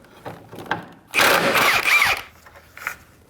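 A hand socket and wrench work a 19mm bolt loose on the front control arm of a 2011-2016 Kia Optima, giving a short burst of scraping, ratcheting metal noise between quieter clicks and knocks.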